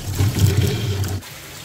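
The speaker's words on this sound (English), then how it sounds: "Now, I will turn the faucet on." A faucet gushes water into a blocked drain pipe, a steady close rushing and splashing for about a second before it cuts off abruptly.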